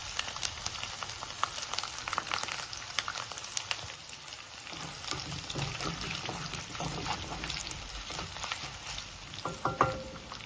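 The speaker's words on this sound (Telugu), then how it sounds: "ఇప్పుడు చిన్నెల్లిపాయ రెబ్బలు వేగిపోయినాయి కదా" Crushed garlic cloves and curry leaves frying in oil with cumin and urad dal for a ridge gourd tomato pulusu, a continuous close crackling sizzle with small spitting pops throughout, fairly soft and steady.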